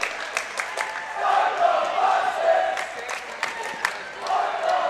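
Boisterous high school boys' basketball crowd chanting in a gym during free throws, rhythmic shouts and whoops rising and falling over several seconds, fairly close and loud, with an announcer talking over it.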